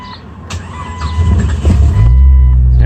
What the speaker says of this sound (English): The car does have a remote start, so hit the yellow button, hold,